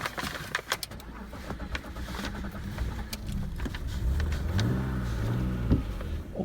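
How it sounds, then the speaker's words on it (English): A BMW 728i E38, an automatic, has its engine started and revved, rising from a low idle into a raspy climb in the second half, loud and close with clicks and handling noise before it catches. "that lovely rasp with the BMW"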